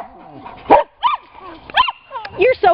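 Several dogs barking and yipping outdoors before a walk with ten dogs, sharp close barks in irregular bursts with small whimpers between, mixed with a person's voice speaking.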